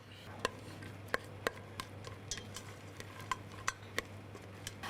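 Carrots and broccoli cut into small pieces are stir-fried in a pan. A soft steady sizzle runs underneath while a utensil scrapes and knocks against the pan in scattered sharp clicks.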